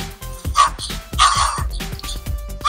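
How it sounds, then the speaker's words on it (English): A small speaker on an Arduino distance-alarm project plays a recorded dog barking sound: several sharp barks and yips in quick succession, loud and close, with no talking. "the speaker will play the dog barking sound"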